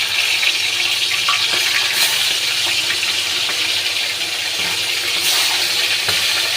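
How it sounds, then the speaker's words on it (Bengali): Katla fish heads frying in hot oil in a wok give off a steady, loud, hissing sizzle that runs unbroken throughout, with faint crackles and pops rising now and then. "এবার আমি মাছগুলো এক এক করে ছেড়ে দেব। ভালো করে মাথাটা ভেজে নেব লাল লাল করে।"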